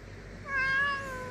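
A cat gives a single short, soft meow while being fed, rising briefly out of quiet room tone.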